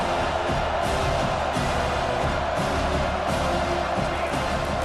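A college football stadium crowd cheers and roars in a dense, unbroken wall of noise, loud and sustained for a few seconds with slight swells.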